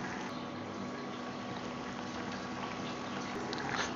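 Steady bubbling of a pot of egg curry on the boil, a continuous close simmering burble with no talking.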